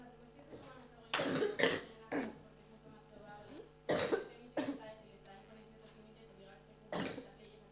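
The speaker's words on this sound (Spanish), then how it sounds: "Que estaba tosiendo y me estaba muriendo" Several short, rough coughs come in clusters with pauses between them, fairly quiet and a little distant.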